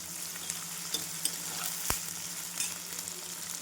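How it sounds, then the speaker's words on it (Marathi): Onion and cumin seeds fry in a pan for a village-style Marathi vegetable dish, giving a steady soft sizzle with a few light stirring clicks and one sharp tap, with no talking. "त्याच्यामध्ये कांदा घालून घेऊया. कांदा पण छान भाजून घेऊ."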